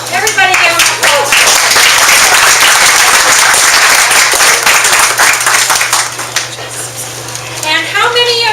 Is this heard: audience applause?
yes